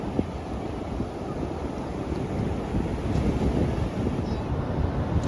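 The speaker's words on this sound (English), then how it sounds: "I want to go surfing, but this is just too choppy" Choppy ocean surf and steady wind at a sandy beach, a continuous broadband wash of waves with wind rumble buffeting the microphone throughout, no voices.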